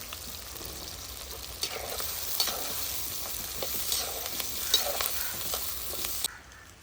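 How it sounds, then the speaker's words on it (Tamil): Crushed garlic sizzles and fries in hot oil while being stirred in a pan for chicken chintamani, a steady close hiss with light scraping stirs throughout, cutting off near the end. "அந்த எண்ணெயிலேயே இடிச்ச பூண்டையும் நம்ம போட்டுக்கலாம்."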